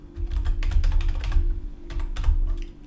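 Fast, close computer keyboard typing rattles continuously in dense clicks over a steady low electrical hum.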